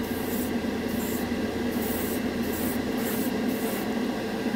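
A dual-action airbrush sprays a base coat of acrylic model paint, a continuous close hiss of air with the spray cutting in and out in regular bursts.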